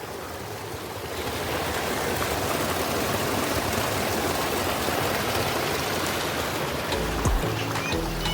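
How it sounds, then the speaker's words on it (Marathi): Stream water from a spring flows forcefully near Ozar waterfall in Sindhudurg, a dense, steady rushing wash close by that grows slightly louder after the first second and continues unbroken. "अच्छा हा झऱ्याचं पाणी इकडे येतोय बघा तर ती फोर्सनी पाणी आहे बघा"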